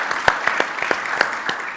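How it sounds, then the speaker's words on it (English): Sparse scattered clapping from a small audience at a clean energy talk, a handful of distinct claps spaced irregularly, fairly close. "we can clap that"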